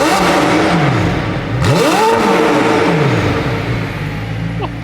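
A car engine revs loudly inside an enclosed supercar workshop, with rising and falling pitch sweeps over a constant loud, reverberant roar for about five seconds.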